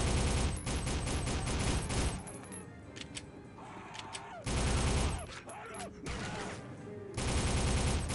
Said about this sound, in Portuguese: esse tiro dos caras machuca